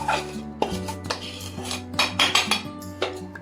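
Powdered sugar being stirred into a semolina laddoo mixture, a spoon scraping and clinking against a metal pan in uneven, close strokes, with no talk.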